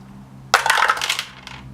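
Two dice rolled for an attack in the HeroQuest board game clatter onto a hard surface in one sudden burst of rattling clicks, close and loud, fading over about a second, then a final small tap.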